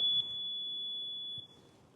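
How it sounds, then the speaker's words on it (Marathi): An electronic voting machine emits a single steady, high-pitched beep after the vote button is pressed, lasting over a second at moderate volume in a quiet room. "हे आवाज तुम्ही ऐकला बीपचा म्हणजे याचा अर्थ तुमच्या मतदान प्रक्रिया संपलेली आहे"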